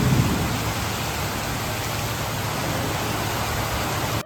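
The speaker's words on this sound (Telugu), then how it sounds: "దాదాపు దగ్గర ఒక 2 నుంచి 3 గంటల వరకు కంటిన్యూస్ గా వర్షం పడ్డది" Heavy, continuous rain pours down during an outdoor Muslim wedding in Telangana, a loud, dense, unbroken roar of downpour with no talk over it.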